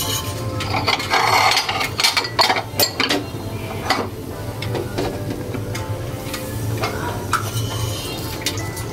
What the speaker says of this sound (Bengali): এক এক করে সবগুলো রুটি এভাবে ভেজে নিব।